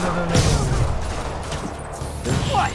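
Rocket explosions in the Marvel's Spider-Man video game form a dense, continuous barrage of booming blasts and crashing debris, loud and sustained, with a brief rising tone near the end.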